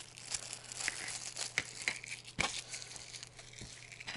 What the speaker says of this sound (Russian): пакет будет разорван